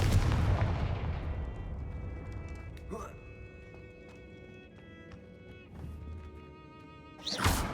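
A fiery blast spell cast in the Hogwarts Legacy video game, erupting in a loud boom at the start that trails into a rumbling decay, with a sharp crackle near three seconds and another burst at the end.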